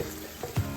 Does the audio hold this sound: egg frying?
yes